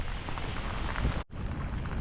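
Rain falls steadily on a Florida beach during a fishing trip in a lightning storm, a dense, continuous hiss with a brief dropout partway through.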